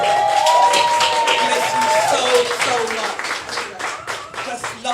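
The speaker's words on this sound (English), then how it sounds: "Give yourself a round of applause." Live audience at a No Bravado show claps and cheers in a steady wash of applause, with someone speaking over it near the end as the clapping thins out.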